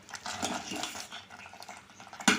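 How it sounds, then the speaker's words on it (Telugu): A spoon stirs bobbatlu dal filling in a pan over low heat, making soft scraping and light clinking against the metal at close range, quiet and irregular, with a sharper knock at the end. "అడుగు అట్టుకోకుండా కలుపుకుంటూ ఉండాలి ఎమ్మటే సన్నటి సెగ మీద."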